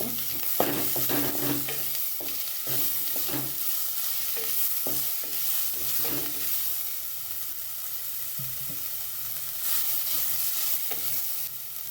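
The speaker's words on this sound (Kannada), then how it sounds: "ಈಗ ಇದಕ್ಕೆ ಸ್ವಲ್ಪ ಶುಂಠಿ ಬೆಳ್ಳುಳ್ಳಿ, ಫ್ರೈ ಮಾಡುವಾಗ" Ginger and garlic fry in a pan for a sea crab curry, a continuous close sizzle broken by repeated scraping stirs of a spoon against the pan.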